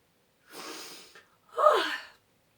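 A voice imitates a sneeze, a breathy drawn-in wind-up followed by a sharp, explosive burst, close and clear.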